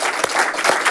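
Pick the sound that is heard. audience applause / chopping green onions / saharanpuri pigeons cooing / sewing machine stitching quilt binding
audience applause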